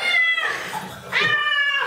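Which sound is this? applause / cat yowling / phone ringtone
cat yowling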